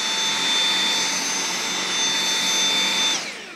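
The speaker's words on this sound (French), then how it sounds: "Ça fait le bruit d'un aspirateur," A Dyson stick vacuum cleaner runs on a floor with a steady, high whining hum and airy rush, loud and close, then spins down near the end.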